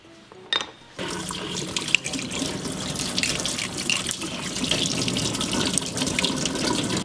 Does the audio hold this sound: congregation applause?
no